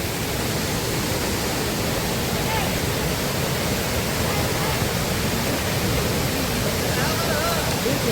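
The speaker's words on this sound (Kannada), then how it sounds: "ಒಳ್ಳೆ ನೀರು ಹರಿತಿದೆ ನೋಡಿ" Abbi Falls waterfall near Devalakere village, Sakleshpur, Hassan district, sends a steady, loud broadband roar of rushing water that holds unchanged throughout, close and continuous, with no voices heard.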